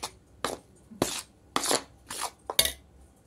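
Sweet shankarpali dough being mixed by hand in a bowl with ghee and water, a series of rhythmic rubbing and scraping strokes, close and fairly quiet, with no talking.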